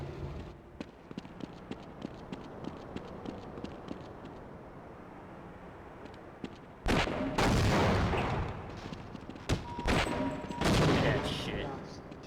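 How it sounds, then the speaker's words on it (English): A grenade launcher fires in Half-Life on PS2, with a quieter stretch of crackling shots giving way to several loud, sharp bursts and roaring blasts in the second half. "Best thing I could use here is the grenade launcher."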